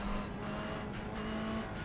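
A Toyota GR86 race car engine drones steadily on the track at VIR, a continuous close in-car hum with a sustained tonal whine and no talk.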